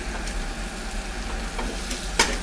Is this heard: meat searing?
yes